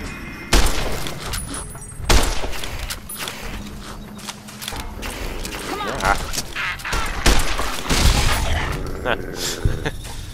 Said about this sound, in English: I shot 3 shots in VATS and I got 1 hit